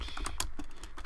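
Quick keystrokes clatter on a computer keyboard, a close, brisk run of about a dozen taps with no speech.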